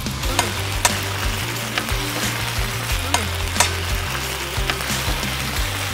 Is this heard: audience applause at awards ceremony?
no